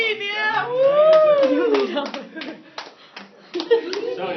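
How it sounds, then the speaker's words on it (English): Students in a high school government class cheer and clap together, with a loud whoop, scattered hand claps and excited voices that rise and fall, under talk. "Everyone start cheering B!"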